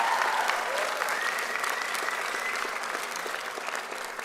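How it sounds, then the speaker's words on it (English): Sustained, dense applause from a large crowd at a law school commencement ceremony, steady and even throughout with no voices on top. "Please turn around and give your loved ones a round of applause."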